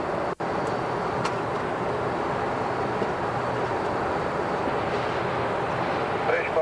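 Boeing 737-200 engines in VASP Airlines cabin after the throttles are pulled back for descent into Salvador, a steady broadband roar with a low hum, continuous and moderately loud, with a brief click near the start.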